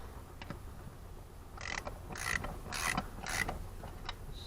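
A ratchet snugs down a spark plug on a Cub Cadet zero-turn mower. Several short, close clicking bursts come in quick succession over a faint background, with no speech.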